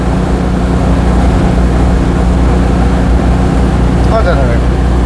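A Citroën 2CV with its flat twin engine drives through a quiet Welsh village, the steady low engine drone and road noise continuous and loud throughout, heard from inside the car.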